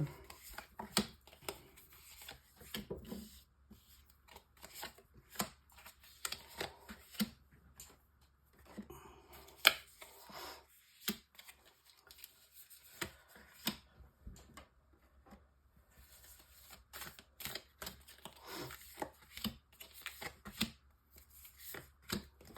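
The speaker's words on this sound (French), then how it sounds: "on fait un tirage en 9 cartes" Tarot cards drawn one by one and laid down for a nine-card spread, giving faint, scattered shuffles, flicks and soft taps in a quiet room, with no talking.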